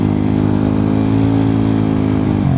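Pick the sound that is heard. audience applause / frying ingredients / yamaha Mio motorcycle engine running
yamaha Mio motorcycle engine running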